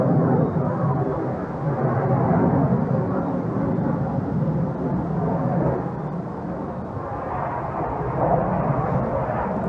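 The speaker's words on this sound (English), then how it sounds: "Trying to let that jet get by." A jet aircraft passing overhead, making a loud, continuous broadband roar that swells and fades slightly, with no talking.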